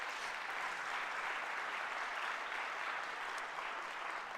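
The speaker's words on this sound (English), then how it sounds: "Let's give them a round of applause" Audience applause at a city's State of the City address, a steady wash of many people clapping at a distance, fairly faint and even throughout, with no speech over it.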